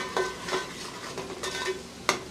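Garlic and ginger frying for chicken sukka, a soft sizzle with a few sharp stirring scrapes against the pan, close and moderately quiet.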